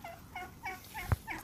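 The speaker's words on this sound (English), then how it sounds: "These are the evil chickens, but most of them are in that coop" Fowl near a woodland coop give a series of short, repeated clucking calls, moderately loud and close, with a brief thump partway through and no talking.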